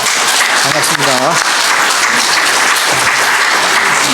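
A church congregation welcomes the pastor with dense, sustained applause that fills the room, loud and continuous throughout, while a voice speaks over the clapping.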